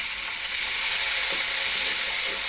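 A chopped medium onion fries in a pan with a loud, dense, continuous close sizzle and occasional faint stirring scrapes.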